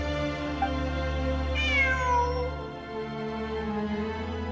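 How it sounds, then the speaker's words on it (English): A cat meows in the video game Genshin Impact, one drawn-out, rising-then-falling meow standing out clearly over a steady hum of game music. "It really is a cat."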